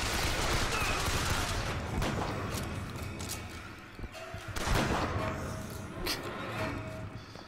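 Sustained gunfire from a shotgun in the first-person shooter Bioshock Infinite, with repeated loud blasts and bursts of chaotic combat noise layered densely over one another, continuing without pause.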